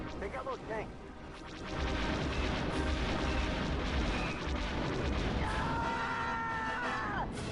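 Laser fire and explosions crackle and boom continuously in the Rogue Squadron space combat game. The dense, loud barrage carries on while a voice talks over it.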